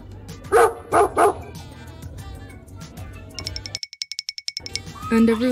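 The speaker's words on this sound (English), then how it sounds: "A dog." A dog barks three times in quick succession, followed by a rapid run of bright metallic clinks and then more noise.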